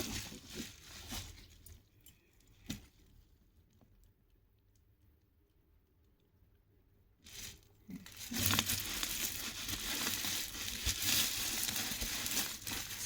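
Packaging crinkles and rustles around a boxed Bandai Banpresto Vegeta figure being unboxed, with scattered crackles at the start, a quiet stretch in the middle, then a dense, louder burst of crinkling plastic and cardboard handling near the microphone.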